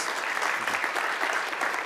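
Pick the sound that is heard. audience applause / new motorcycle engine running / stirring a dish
audience applause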